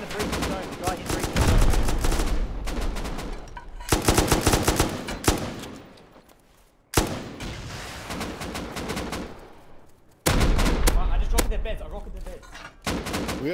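Dense automatic gunfire rattles in the survival game Rust, with long rapid bursts broken by abrupt cuts and a few heavier shots, loud and close, with voices talking faintly underneath at times.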